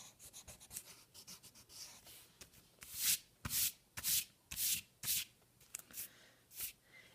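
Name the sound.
erasing pencil lines on a drawing with an eraser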